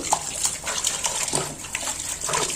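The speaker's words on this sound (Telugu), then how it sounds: "ఇలా కడిగి ఒకసారి కడిగేసిన మళ్ళీ ఇంకోసారి కడుగుతున్నాం" Goat tripe (boti) is rinsed in water by hand, with close, uneven splashing and sloshing in quick bursts throughout and no speech.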